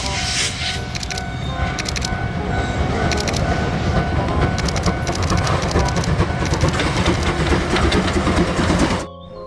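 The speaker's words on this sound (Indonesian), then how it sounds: "Yang ini namanya kereta api Thomas" A Thomas the Tank Engine toy train runs with a loud, continuous mechanical whir and rattling clicks, close by. It cuts off abruptly at the end.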